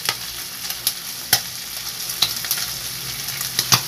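Vegetables for pakbet stir-fry in a hot pan, a steady loud sizzle running throughout with sharp scraping clicks of a utensil stirring at irregular intervals, close and free of talk.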